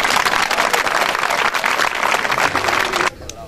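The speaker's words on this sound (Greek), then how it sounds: "Ένα χειροκρότημα για όλες τις αποστολές." A crowd claps steadily in sustained, dense applause for about three seconds, then it stops abruptly, leaving a quieter room.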